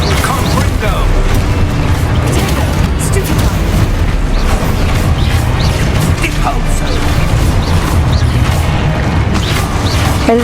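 Confringo spell explosions in the video game Hogwarts Legacy, a continuous loud roar of blasts, crashes and booming impacts amid chaotic combat noise, with a voice shouting over it.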